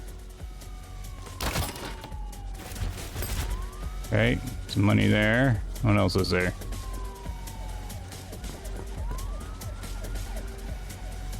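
A police car siren in a video game wails in the background, rising and falling steadily beneath game sounds, with a few sharp bangs and someone talking briefly over it.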